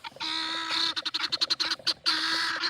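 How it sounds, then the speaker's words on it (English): Chickens squawk and cackle near a pond in a farm field, a dense run of sharp, overlapping calls close by, with brief pulsing bursts in the middle and no talking. "I think their little squawk here that they're doing is echoing off the pond"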